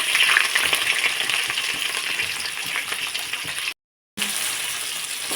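Steady sizzling of onions frying in hot oil for chicken kulambu, loud and close, with a brief silent gap near the end before the sizzle resumes.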